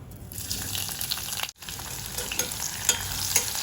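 Chopped onion sautéing in a pan for Hyderabadi green kuska, a steady close sizzle with scraping spoon stirs, briefly cut off by a short gap midway.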